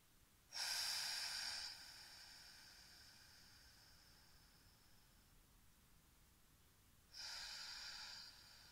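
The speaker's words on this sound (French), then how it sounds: "vous exercez ces respirations fortes, ces souffles forts" Two strong, forceful breaths during a passive breathing meditation, each a long loud airy rush about a second long, separated by several seconds of quiet, close to the listener.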